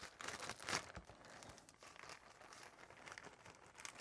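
A plastic bag crinkles and rustles as a folded towel holding seeds is pushed inside, with a sharp crackling burst early on followed by softer, irregular crinkles, close and quiet.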